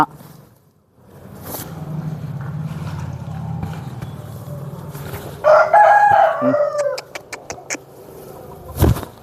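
An eastern-breed fighting rooster crows loudly nearby with a long strained call, followed by several short clucks, over a low rumble of background noise.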